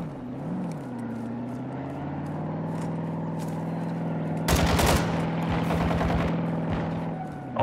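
Automatic gunfire in Call of Duty Warzone DMZ, a sharp loud burst of rapid shots after several seconds of steady engine-like drone, ending with a final shot.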